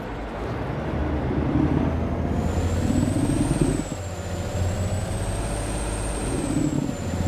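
A heavy truck in Alaskan Truck Simulator idles with a steady low diesel rumble, joined by a rising high whine that holds through the rest, loud and close with no talk.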